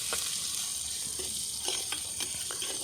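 Chopped onions, about one and a half, sizzle steadily in hot oil in a pan after mustard seeds have popped, a constant close frying hiss broken by a few soft stirring scrapes and clicks.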